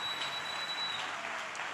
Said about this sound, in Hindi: Somebody give the Lord a clap offering right now.